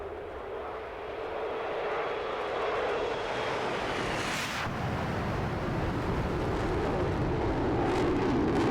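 Steady, loud roar of an SU-30 jet engine in the DCS World flight simulator, a continuous broadband rumble that swells slightly midway and holds on without any talk.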